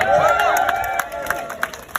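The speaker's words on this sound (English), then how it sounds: "Are you better than that big cheer?" A crowd at a Stand Up to Racism rally cheers and shouts together outdoors, a dense, loud mass of voices with sharp whoops and claps poking out over the steady din.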